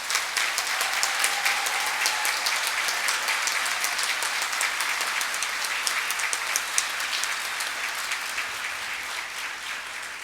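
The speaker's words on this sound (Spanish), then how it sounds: "yo creo que ese señor se merece un aplauso" A hall full of people at a congress closing ceremony applauds steadily, dense even clapping sustained for about ten seconds with no talking over it.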